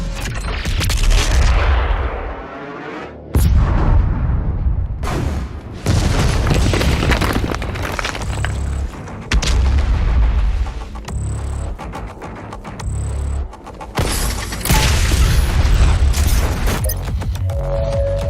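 Heavy weapon fire in a Doom Eternal game cutscene, with loud repeated booming blasts and gunfire that crash through most of the stretch, some bursts dense and sustained, others separated by short gaps.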